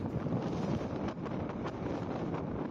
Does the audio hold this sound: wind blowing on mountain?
yes